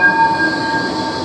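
A Blackpool Flexity 2 tram rolls past with a steady, tonal electric whine and running hum, loud and continuous for its whole length.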